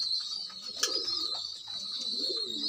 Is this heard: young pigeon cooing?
yes